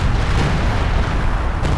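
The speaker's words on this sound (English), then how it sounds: "Oh, that was the assault artillery actually." Assault artillery barrage in Company of Heroes 2, a steady dense rumble of distant shelling and booms that runs without a break, with a sharper burst near the end.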